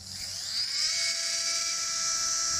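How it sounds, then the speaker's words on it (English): A dental implant drill whines at high pitch through a final drilling pass during implant surgery with a surgical guide, rising as it spins up and then holding a steady, close, continuous tone. "So I do my last drilling"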